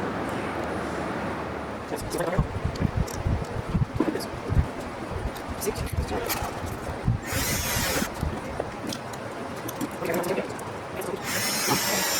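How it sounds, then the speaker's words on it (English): Holes are transfer drilled through aircraft windshield trim strips to match existing rivet holes, heard as two short, harsh drill bursts near the end over steady clatter and handling noise. "we'll transfer drill this to match all these rivet holes here"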